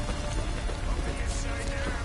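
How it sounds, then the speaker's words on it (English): Steady rain hisses and patters continuously in The Witcher 3, a dense even wash of drops with no voices over it. "Looks like rain."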